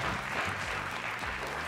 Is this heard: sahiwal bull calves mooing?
no